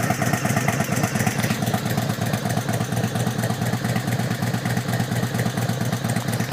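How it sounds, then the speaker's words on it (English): A 1997 Harley-Davidson Road King motorcycle engine idles steadily up close, a loud, continuous low lumpy rumble with a fast uneven pulse and mechanical clatter, no voices over it. "Like I say, the bike sounds amazing."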